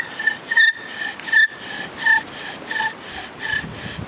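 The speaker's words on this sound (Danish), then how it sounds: "så kører jeg ind til den har samlet godt med smuler hernede" A wooden bow drill spins in a fireboard, producing rhythmic back-and-forth rubbing and squeaking strokes, close and steady over several passes, with no talk.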